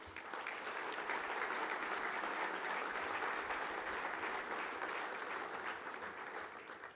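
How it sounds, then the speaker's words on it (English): Steady applause from a crowd at a charity foundation's annual gala, sustained clapping at an even level throughout with no break. "Please give yourselves a big round of applause"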